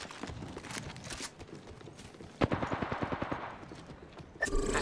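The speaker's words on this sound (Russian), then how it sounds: "Они по мне стреляют!" Gunfire in the video game Apex Legends: a quick burst of rapid shots in the middle of a busy, fairly quiet battle mix, followed by a louder sharp sound near the end.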